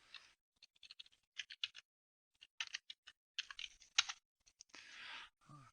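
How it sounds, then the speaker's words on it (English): Keys on a computer keyboard tapped in short uneven bursts while entering commands during a Hack The Box exercise, the clicks close and fairly crisp with brief pauses between flurries. "Anytime I try to type something in, it doesn't work."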